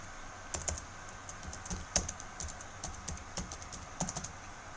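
Typing on a computer keyboard, a run of close, crisp key clicks in an irregular rhythm with a few sharper strikes, alone with no talk.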